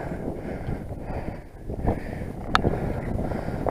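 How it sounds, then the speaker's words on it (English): Wind buffeting a rocky summit, a low rumbling gusty roar against the microphone that swells and eases, close and continuous with no talk. "Wind's getting over a bit up here."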